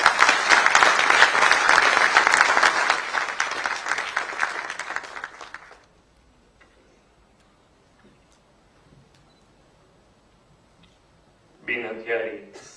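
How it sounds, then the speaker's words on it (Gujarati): An audience at a Gujarat Police ceremony for appointing unarmed police sub-inspectors bursts into loud, dense clapping that fades out after about six seconds, then near silence, before a brief return of applause near the end. "જોરદાર તાળીઓ"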